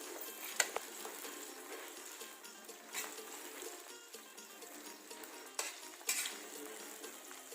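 Blanched crickets fry with lemongrass and kaffir lime leaves, a soft steady sizzle broken by a few scattered stirring clinks and scrapes, fairly faint throughout.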